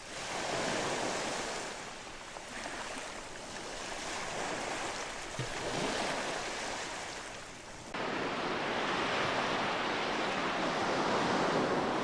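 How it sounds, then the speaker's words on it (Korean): Calm spring sea waves wash in a steady, broad rush of surf, continuous and fairly loud with gentle swells and some wind, and no voices. "잔잔한 봄바다의 해류다."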